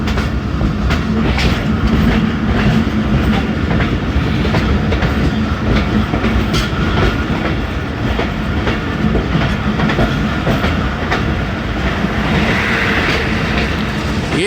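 The Jaffar Express passenger train with economy class coaches running on the rails in foggy winter weather, a loud continuous rumble with rhythmic clickety-clack wheel beats and rattling from inside the carriage.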